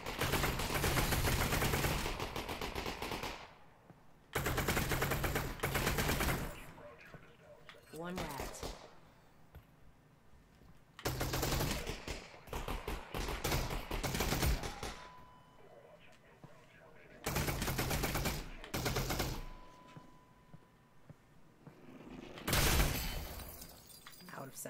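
Bursts of enemy gunfire in Half-Life: Alyx, several loud rattling volleys of a few seconds each separated by quieter gaps, with faint clatter and breaking sounds in between.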